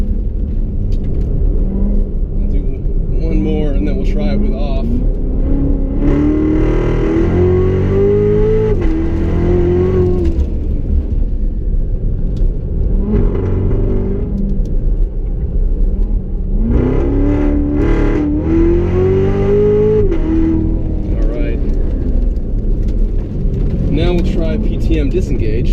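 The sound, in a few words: Chevy Corvette Z06 engine accelerating around figure eight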